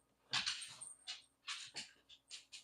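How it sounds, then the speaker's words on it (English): Neighbourhood dogs yelp and bark in a string of short, high, thin calls, several quick bursts spaced irregularly, faint and distant with no talking. "Everybody's dogs are barking."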